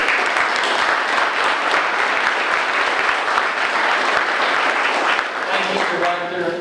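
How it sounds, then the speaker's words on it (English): Loud, dense applause from an audience welcoming a guest at a summer crime plan event, clapping steadily throughout at close range before easing slightly as a voice begins to speak over it. "Everyone, please give him a big round of applause."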